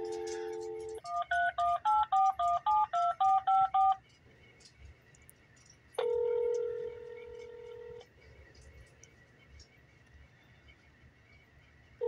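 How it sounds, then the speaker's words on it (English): Touch-tone dialing for a test call to a phone cabinet's answering machine: a quick string of about ten crisp DTMF beeps, a pause, then a longer ringback-style tone, all clear and close with faint background hum. "Gonna be test calling the answer machine at the phone's cabinet."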